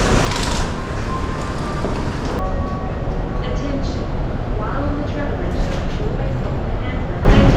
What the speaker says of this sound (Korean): 에어트레인.